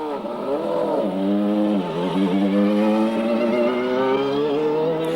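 Nigel Mansell's 1993 Indycar engine howls steadily at high revs on track at dusk, the pitch dipping and climbing through gear changes, loud and continuous with no talking.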